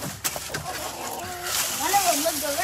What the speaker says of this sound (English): This motherfucking chicken act like he want to get out